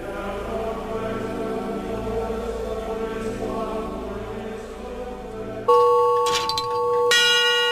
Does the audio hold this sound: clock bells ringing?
yes